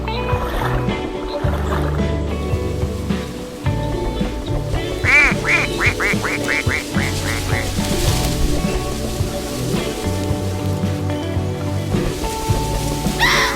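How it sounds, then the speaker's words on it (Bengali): An animated mother duck leads her ducklings home, with a rapid run of quacks standing out over a busy bed of background music and effects. "আপন মনে ছানা নিয়ে মা হাঁস যায় বাড়ি"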